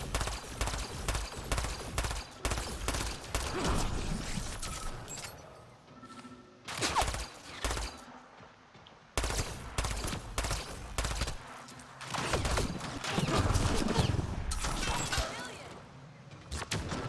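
Rapid, loud gunfire bursts repeatedly in the Mass Effect: Andromeda sci-fi shooter, with shotgun blasts mixed into dense combat noise across the whole stretch and brief lulls between volleys.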